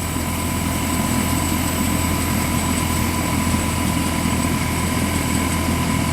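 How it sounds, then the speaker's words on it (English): A failing Bryant heat pump compressor runs loud and close, drawing over 40 amps, with a constant heavy droning hum and a steady tonal whine and no letup or talk. "Sounds like a bad compressor, doesn't it?"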